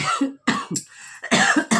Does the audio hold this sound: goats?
no